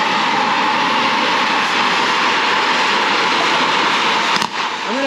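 An oxy-acetylene cutting torch cuts through metal with a loud, steady roaring hiss that holds unbroken and close for several seconds, dipping briefly near the end.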